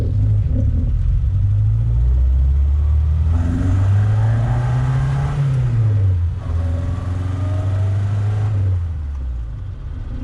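A Triumph Herald's exposed engine rumbles and revs during a test drive, the pitch rising with acceleration, dipping at a gear change, then climbing again in a steady close-up drone.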